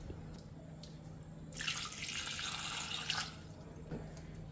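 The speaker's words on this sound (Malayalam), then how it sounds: "ഇനി അതിലേക്ക് ഒരു കപ്പ് വെള്ളം ഒഴിക്കാം" A cup of water poured onto jaggery in a pan, a short splashing pour of about a second and a half, close and clear against a quiet kitchen background.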